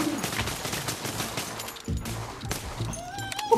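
Gunfire in the Pavlov VR shooter game, a rapid string of close shots that continues steadily throughout.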